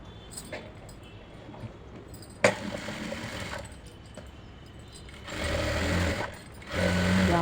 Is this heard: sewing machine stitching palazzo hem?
yes